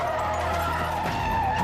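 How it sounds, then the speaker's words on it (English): A black car hit by a truck skids out of control at an intersection, a sustained tire squeal with a steady tonal whine over low road rumble, loud and continuous. "The truck barrels through the intersection, hitting the black car, which skids out of control into the crosswalk."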